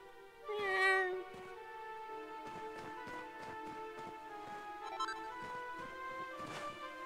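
A cat meows in the video game Dragon Quest 11: one loud, drawn-out call near the start, followed by quieter repeated mews over steady game music and rhythmic hoof-like clopping.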